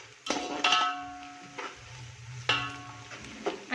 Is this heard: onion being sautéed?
yes